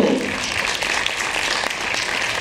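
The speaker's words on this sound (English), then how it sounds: "let's give a huge round of applause to the very talented Antonina" Steady audience applause fills a hall after a four-hands piano recital of Liszt's Hungarian Rhapsody No. 2, a dense, even wash of many clapping hands with no voices over it.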